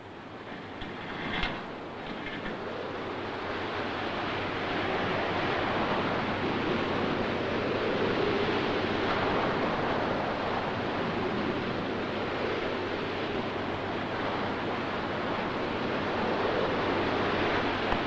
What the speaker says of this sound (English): Looks though we've been hit by a tidal wave.